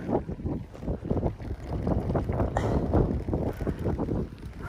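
Gusty, freezing wind at about -2 degrees buffets the microphone in uneven rumbling surges, loud and close, with no voices.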